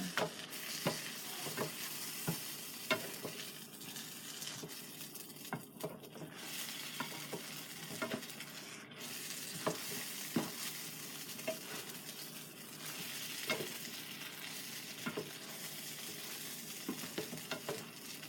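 Eggs cooking slowly in a pan give a steady, soft sizzle for breakfast, with frequent light scrapes and taps of a utensil stirring them close by; no voices.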